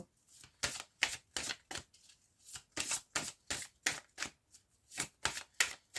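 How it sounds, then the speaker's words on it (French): Oracle cards are shuffled and drawn from a deck up close, giving a quick run of crisp riffling bursts at an uneven rhythm with no talking. "je vais tirer une ou deux cartes"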